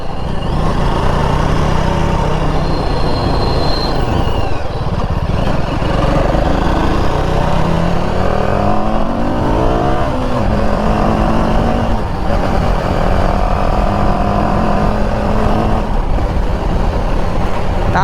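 A car on a road trip toward Kodaikanal drives along and overtakes another vehicle. Its engine gives a steady, loud, close drone throughout, with shifting road and wind noise.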